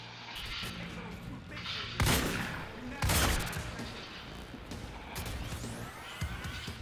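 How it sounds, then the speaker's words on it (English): Two heavy shotgun blasts boom out in Quantum Break, spaced about a second apart and followed by a lighter third impact, over a steady background of game noise and faint voice. "two shots, my shotgun takes down the guys"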